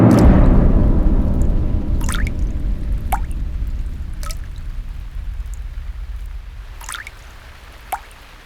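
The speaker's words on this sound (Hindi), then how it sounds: "पानी कहाँ टपक रहा है? लगता है किसी ने नल खुला छोड़ दिया है।" Water drips from a tap left open, with a handful of distinct drops landing at irregular intervals over a low rumbling wash that slowly fades, ending with one sharper plink.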